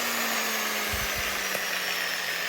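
A worn angle grinder with an intermittent fault hums with a steady motor whine, while its housing is twisted and a few low bumps and clicks come through.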